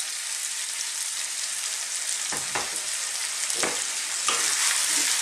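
Potatoes frying with onions and spices in a pan on above-medium heat, a steady close sizzle with a few stirring scrapes breaking through, no talking.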